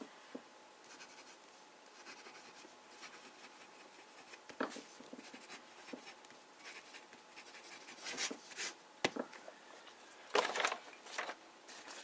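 Conway Stewart Edgcumbe fountain pen with a medium nib writing on paper, soft scratchy strokes with sharper taps and scrapes toward the end, close and quiet, no talk.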